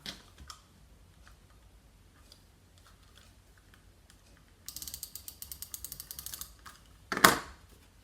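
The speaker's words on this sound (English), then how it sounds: "So I'm going to run adhesive now down this tab." A dry permanent adhesive tape runner is pulled down a paper box tab, giving a quiet, rapid ratcheting chatter for about two seconds. A sharper click or rattle follows.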